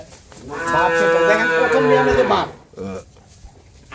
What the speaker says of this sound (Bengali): আমি যে গরুটা দেখাচ্ছি